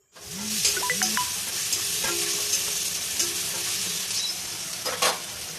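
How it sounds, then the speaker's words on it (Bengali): Steady crackling sizzle of garlic frying in a pan, with a few scraping stirs near the start, continuous and fairly loud throughout. "রসুনটা একটু হালকা ভাজা ভাজা করে নেব যাতে কাঁচা গন্ধ চলে যায়"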